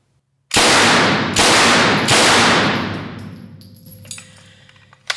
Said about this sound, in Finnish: Ammutaan muutama laukaus lisää.